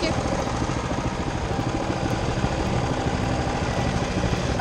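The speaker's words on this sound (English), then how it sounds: "This is going on with the mini bike." Small mini bike engine running steadily on an off-road riding area, a dense, continuous buzzing drone with a rough, rapid rhythm that stays loud and near throughout, with no clear speech over it.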